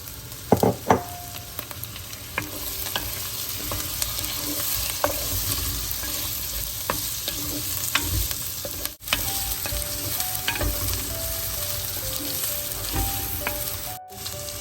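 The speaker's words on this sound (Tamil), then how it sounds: "எனவே இந்த வெங்காயம் வதங்கி கொண்டு வரவே இந்த முருங்கைக்காயையும் வதங்க சேர்ப்போம்" Moringa drumsticks sauté in a pan with red onion and chillies, a continuous close sizzle punctuated by frequent scraping and clinking stirs, with no voices.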